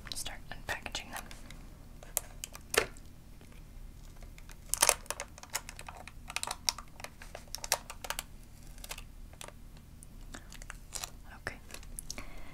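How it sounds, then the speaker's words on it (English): Close, quiet crinkling and rustling of tape and twist ties comes as Indiana Jones Micro Machines toys are unpacked, with scattered soft crackles, small taps and faint whispering throughout. "So these are all taped down and twisty tied, so I'll start unpackaging them."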